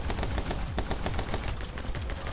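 Gunfire in the video game My Friend Pedro: rapid, sharp repeated shots in quick bursts over a busy game soundtrack, with no voices.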